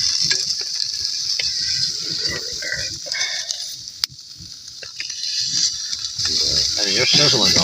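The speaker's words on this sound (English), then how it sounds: "I mean, you're sizzling though. We're cooking." Chicken burgers and poutine sizzle in a pan inside a hot tarp shelter, a steady close hiss running throughout while people talk over it.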